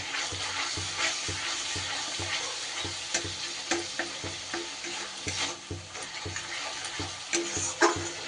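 Spice masala for a vegetarian potato curry fries and sizzles in oil in a pan, with repeated stirring scrapes in an uneven rhythm, close and moderately loud, with no talking.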